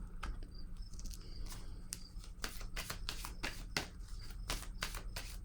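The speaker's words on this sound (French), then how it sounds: "Je vais déposer une carte sur le foyer." Tarot cards are handled and laid down on a table in quick, crisp, close slaps and flicks, a busy run of papery snaps over a quiet background.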